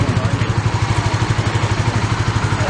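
A motorcycle engine idling and revving lightly as a beginner rider eases out the clutch, a close, loud, steady pulsing throb with rapid regular beats.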